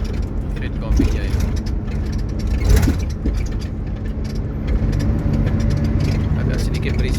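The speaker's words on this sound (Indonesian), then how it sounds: "Agak sedikit berisik bunyi pintu darurat di sini ya" Loose emergency door rattling inside a moving bus at night, a steady clatter of knocks and creaks over the continuous engine and road rumble, with a person talking nearby.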